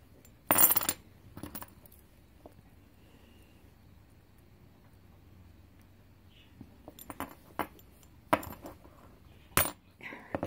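Rusty cutters snip through a piece for a polymer clay Victorian Gothic necklace, several sharp metallic clicks and snaps spaced apart over a quiet background.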